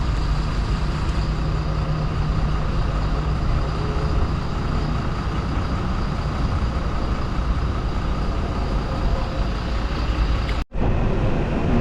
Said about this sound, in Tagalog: Dito na yung bus, sakay na kami.